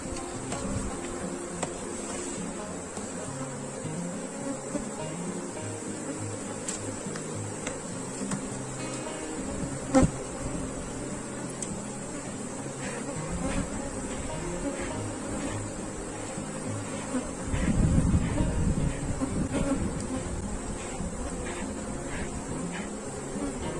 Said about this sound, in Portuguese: Então vamos ver aqui o que é que esse enxame está precisando.